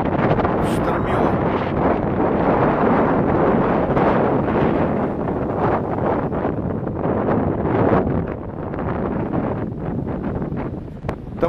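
Strong stormy wind roars and buffets the microphone continuously on the seaside promenade in Zelenogradsk, a loud, steady rushing with gusty surges throughout.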